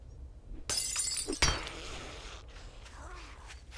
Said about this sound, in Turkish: Camı kırıp çıkabiliyormuşuz.